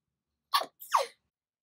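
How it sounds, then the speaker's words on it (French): Two quick sneezes from one person in a quiet room, the first sharp and short, the second a little longer, close and alone with no talk around them. "je vais éternuer"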